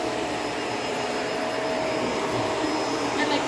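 A robot vacuum cleaner runs steadily at close range, giving a continuous whirring hum with a high, even whine over a broad noisy roar, with no breaks and no voices.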